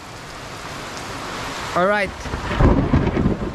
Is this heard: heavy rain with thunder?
yes